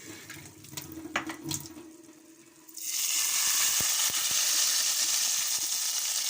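Water running from a kitchen tap bursts on after a few seconds of quiet clatter and dish sounds, then pours in a steady loud hiss to the end, with a few small knocks beneath it.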